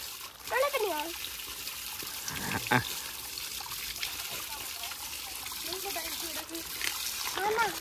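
Bore well water flows and splashes continuously while people bathe. Soft trickling runs throughout, with voices talking and calling out over it.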